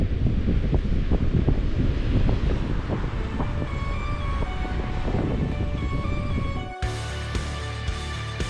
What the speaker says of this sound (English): I got away from the wind a little bit